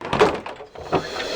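A door thuds and rattles in a short burst as someone bangs or handles it, two dull knocks about three-quarters of a second apart with a low resonant body, no clear speech.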